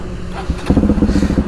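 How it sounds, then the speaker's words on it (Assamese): A Bajaj Pulsar NS 200 motorcycle fitted with KTM Duke 250 headlights idles close by in the rain, its engine settling into a loud, even chugging pulse after a short rev. "ইঞ্জিনটো এতিয়ালৈকে চালিয়া হৈ আছে টিপটপ হৈ আছে আপোনালোকে সাউন্ডটো শুনি কিনে গম পাইছে চাগে"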